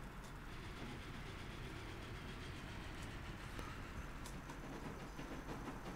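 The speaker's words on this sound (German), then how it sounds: "Kohlezug. Der saust hier gerade daher." Coal train rushing past in the train-building video game Train Fever, a steady, dense rumbling roar with a constant level and no talking over it.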